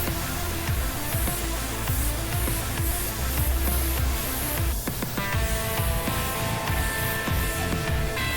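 Paint sprays onto the sides and back of an ESP LTD MH-100QMNT electric guitar body, a steady hiss running continuously over background music, with no talk.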